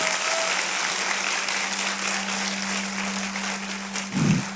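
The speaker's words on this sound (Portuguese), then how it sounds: "Então, aplaude o Senhor por isso." Congregation applauding in a Brazilian church service, continuous even clapping from many hands, with a steady low hum underneath and a brief muffled thump near the end.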